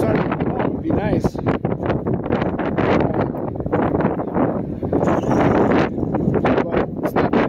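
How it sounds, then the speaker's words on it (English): Gusty wind blows outdoors on a cold, overcast day near a fishing spot, a steady, loud rush that buffets the microphone for the whole stretch. "It's windy, makes it feel colder."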